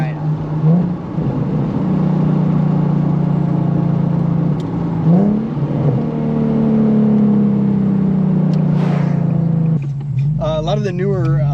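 A car engine runs at steady idle with a strong low drone, rising briefly in a few revs, while people talk nearby; a high wavering whine enters near the end.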